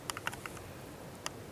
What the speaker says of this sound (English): I'm just gonna go ahead and type in my password here